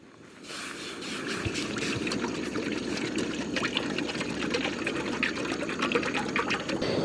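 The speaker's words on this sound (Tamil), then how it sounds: "முதல்ல தண்ணி ஊற்றிப்போம்" A steady stream of water pours into a container, a continuous close splashing fill with no talking.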